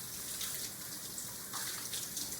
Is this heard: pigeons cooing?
no